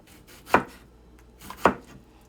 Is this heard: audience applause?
no